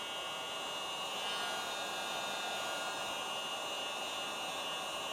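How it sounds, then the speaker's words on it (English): A large heat gun running on its lowest setting, shrinking heat-shrink tubing over motorcycle wiring on a BMW G310R, gives a steady, close, unbroken airy blowing roar throughout, with no talk. "I've got this on the lowest setting, this heat gun, because it is a large heat gun."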